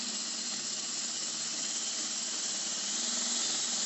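Gasket remover spraying from an aerosol can in a saw-building workshop, a steady, bright hiss held evenly for several seconds at close range with no speech.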